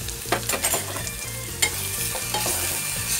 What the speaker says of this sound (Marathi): आता हे चांगलं आपल्याला तेलामध्ये फ्राय करून घ्यायचे, पूर्ण असं नरम होईपर्यंत